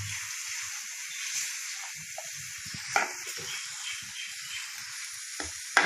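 Onion and mixed vegetables cook over medium heat in a pan, making a faint, steady hiss of frying with a few small clicks and light stirring sounds.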